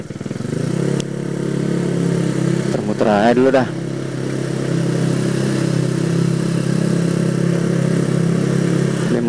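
A motorcycle rides along with a steady mid-pitched engine drone and wind rush, briefly revving up and down near the start while a rider speaks a few words over it.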